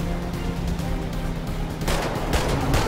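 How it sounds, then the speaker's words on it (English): Rapid gunfire in GTA 5 while driving, a steady stream of bursts over engine and road rumble, getting denser and louder near the end. "I'm trying to drive and shoot in this game"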